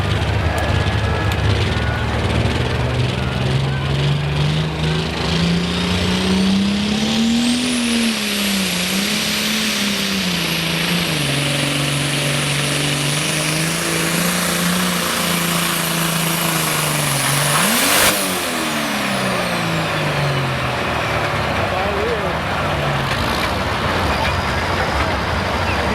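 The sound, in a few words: tractor engine revving during a tractor pull run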